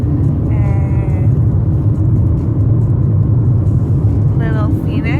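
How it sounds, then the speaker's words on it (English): Steady low rumble inside a moving car on the drive home from the hospital, with constant road and engine drone and faint brief squeaks over it. "little Phoenix is in his first car ride"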